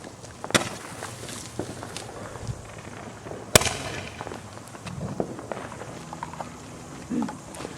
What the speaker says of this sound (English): Roman candle.